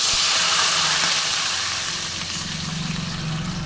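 Water poured into a hot pan of lightly crushed, reddened fried garlic bursts into a loud, continuous steamy hiss and sizzle that eases slightly after a couple of seconds, with no voices.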